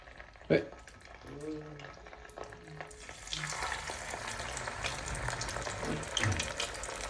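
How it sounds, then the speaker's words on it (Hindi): Chips and snacks fry in a pan of oil, a soft crackling sizzle that swells and stays steady, with a clink near the start and someone talking quietly underneath. "चिप्स भी करेंगे ना, सब कुछ करेंगे फ्राई थोड़ा थोड़ा।"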